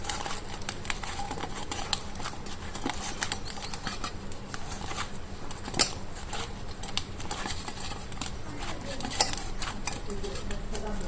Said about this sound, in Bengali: ময়দাটা ঠান্ডা হয়ে গেছে, আমি এবার মাখিয়ে নিব।